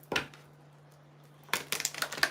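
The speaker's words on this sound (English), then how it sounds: "Give the deck a good shuffle." A tarot card deck is shuffled in two quick, crisp bursts of riffling and snapping cards, close by and separated by a quiet pause, with a faint steady hum beneath.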